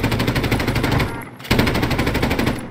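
Automatic gunfire in the video game Call of Duty Modern Warfare: loud, rapid machine-gun rattling that runs almost continuously, with a brief lull midway before the bursts resume, and no voices.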